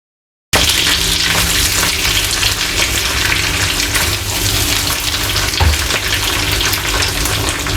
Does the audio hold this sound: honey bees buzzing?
no